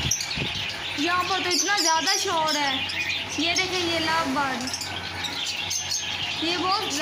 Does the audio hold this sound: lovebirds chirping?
yes